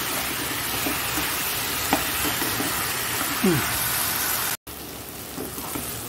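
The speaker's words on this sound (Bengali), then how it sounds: "দেখো কষানো হয়ে গেল, খুব সুন্দর কষিয়েছি।" Taro curry being sautéed and stirred in a pan, with a steady sizzling hiss throughout and occasional scrapes of the spoon against the pan.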